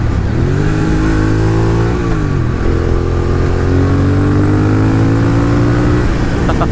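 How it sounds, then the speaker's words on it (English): A 2022 Triumph Thruxton Ton Up motorcycle pulling in sixth gear, its exhaust droning loud and close with engine harmonics that dip briefly, then rise steadily as the exhaust opens up under throttle. "you do hear the exhaust open up a little bit"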